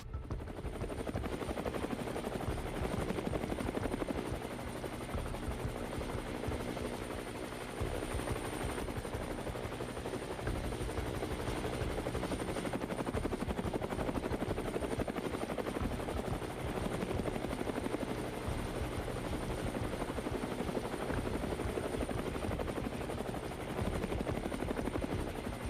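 A helicopter drones loudly and continuously overhead tracking a police chase, its rotor chop steady and dense throughout, with no voices.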